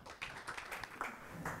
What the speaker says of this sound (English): So let's welcome Ayan with a round of applause.